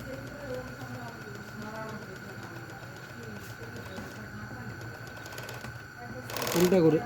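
A Jack K5 overlock sewing machine runs in reverse with a faint rattling mechanical whirr, heard under a voice, and a brief burst of louder sewing noise near the end.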